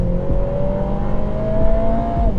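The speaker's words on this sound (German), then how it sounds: "Hinter dir ein paar Zentimeter arbeitet dieser AMG 4-Zylinder Motor" AMG four-cylinder engine mounted just behind the seats of a Lotus Emira, heard from inside as a loud, steady droning whir whose pitch climbs gradually under acceleration, with no talking.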